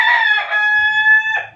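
A rooster crows once, loud and close, a long wavering cock-a-doodle-doo with a short rising call at the end.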